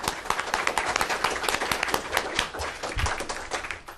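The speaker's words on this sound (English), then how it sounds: "first applaud them" Audience at an academic panel on Chinese investment in Southeast Asia applauds, a dense, steady patter of many hands clapping at moderate distance with no talk over it.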